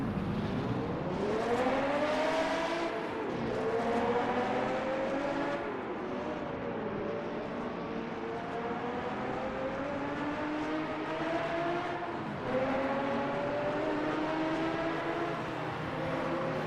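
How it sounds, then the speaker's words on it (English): Several historic sportscars roar around the Mosport circuit in a virtual racing game, their engines rising and falling in pitch through repeated upshifts, loud and continuous with no break. "if anybody could hear me over these loud cars"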